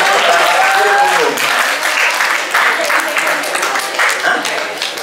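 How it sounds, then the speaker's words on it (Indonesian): Students applaud the Indonesian language teacher at a pesantren orientation assembly, a loud, steady wash of clapping across the whole stretch, with a voice speaking briefly over it near the start. "kita tepuk tangan buat guru bahasa Indonesia"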